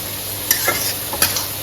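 Onions with salt frying in a pan, a steady sizzle broken by two distinct scraping stirs of the spatula, close and fairly loud, with no talk.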